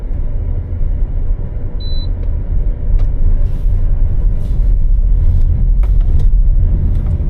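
A BYD Seal 5 DM-i plug-in hybrid car merges onto an expressway, heard from inside as a loud, steady road rumble and cabin drone. A brief faint beep sounds early, and the noise swells slightly as the car picks up speed.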